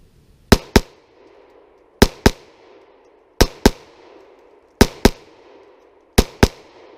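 Handgun fired single action in double taps: five pairs of sharp, loud cracks, each pair quick, with steady pauses between pairs and short echoes trailing off outdoors.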